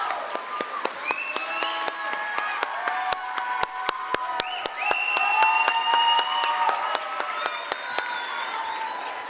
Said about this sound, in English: close with another round of applause and congratulations to the 2023 graduating